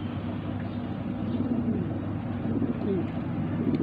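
Punjabi pigeons coo softly amid a steady low background hum, the soft rolling calls faint and continuous rather than distinct.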